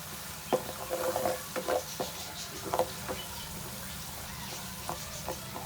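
Whole spices (fennel, white coriander seeds, turmeric, crushed red chilli and salt) roast in a pan for bhindi masala, giving a faint, steady sizzle broken by soft scattered clicks and scrapes of stirring.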